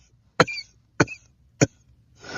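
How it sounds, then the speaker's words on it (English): Three sharp, racking coughs in a voice, evenly spaced and close, each with a short rough tail, followed by a soft breath at the end. "Malcolm began to laugh, which turned into racking coughs."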